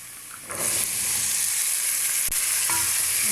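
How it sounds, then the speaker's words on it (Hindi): Chickpeas drop into a hot spiced pan for Lahori chana, and a loud steady sizzle bursts up. It carries on with stirring scrapes and a single sharp knock, and nobody speaks. "थोड़ा सा फ्राई करने के बाद चने ऐड कर देंगे"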